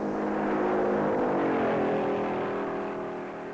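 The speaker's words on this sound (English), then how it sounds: "Buck Baker, teammate of Speedy Thompson, eases his Chrysler 300B into a qualifying run, climbing the high bank at better than 117 miles an hour" A Chrysler 300B stock car on a qualifying run around the high banks at Darlington, a loud engine whine that rises in pitch then fades slightly as it passes, continuous and alone.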